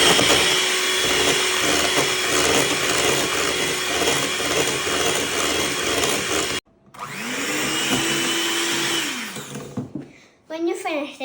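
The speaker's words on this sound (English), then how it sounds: "We're going to whisk it until it's white and it goes bigger." Electric whisk beating an apple marshmallow mixture until white and fluffy, a loud steady motor whine that cuts out, restarts and ramps down near the end; speech is heard alongside.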